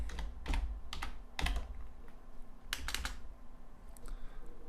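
Computer keyboard typing a folder name, a few separate bursts of quick keystrokes with pauses between, close and fairly quiet, alone without speech.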